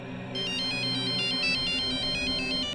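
A phone ringtone for an incoming call plays as a repeating electronic melody, loud and steady over a low background music bed.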